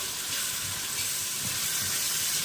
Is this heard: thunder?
no